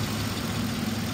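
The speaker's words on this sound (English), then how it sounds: "But sitting here on idle, it's got a steady misfire." A 2013 Chevy Caprice PPV engine idles with a steady misfire, a faint, continuous low rumble with uneven pulsing, close by and with no voices.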